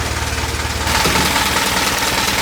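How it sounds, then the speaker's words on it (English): A World War II-style Jeep engine idles just after a choke start, running a little rough with a low, steady mechanical drone that gets slightly louder partway through, close up and with no talk. "There you have to turn the choke down pretty quick once it's started. That's why I have that bit of a stutter."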